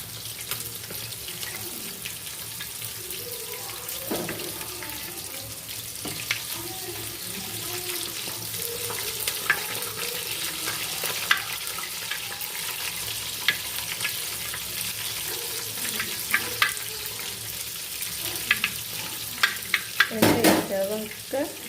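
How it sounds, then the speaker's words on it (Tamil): Onion, garlic and tomato sautéing in oil for a home-style fish curry give a steady close sizzle and frying hiss, with occasional stirring clatter and a louder burst near the end. "வெந்தயம் வெடித்த உடனே நாம் நறுக்கி வச்சுருக்க வெங்காயம், வெள்ளைப்பூண்டு, தக்காளி எல்லாத்தையும் போட்டு வதக்கிக்கிடுவோம்."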